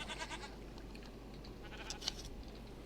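A Minecraft goat bleats in the video game, a couple of faint, brief bleats over a steady low game ambience.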